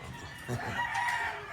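A short burst of chickens clucking with a rooster's crow rising over them, close by and moderately loud.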